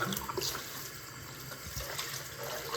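Tap water runs steadily into a sink while woven wool fabric is rinsed after coming off a loom, a continuous close splashing wash with no talking.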